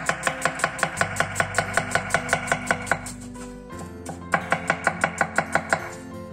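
A knife chops a sweet Yalta onion on a board in rapid, even strokes, about three per second, close and crisp, pausing briefly midway before resuming, over soft background music.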